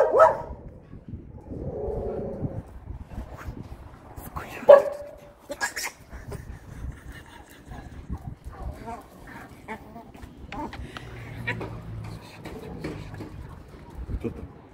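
Dogs bark and whimper in short bursts at close range in an enclosure where hamadryas baboons are present. Talk in Russian overlaps them throughout.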